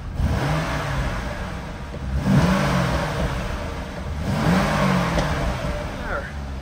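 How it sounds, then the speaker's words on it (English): Close engine revs from a red 2007 Corvette coupe with automatic transmission, three distinct swells of throttle over a steady idle rumble. "Give it a couple revs."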